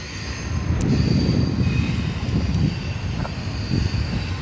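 A steady low rumble of a train rolling by nearby, with faint clanks and a high whine over the continuous roar.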